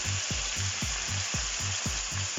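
Chicken gizzards fry in a pan for a masala dish with a loud, constant sizzle, while rhythmic low scraping strokes of stirring repeat about three times a second.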